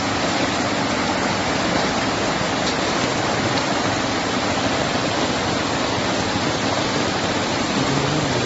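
Heavy monsoon downpour in Tirunelveli during flooding, a dense, unbroken roar of rain pouring steadily and loudly with no pauses.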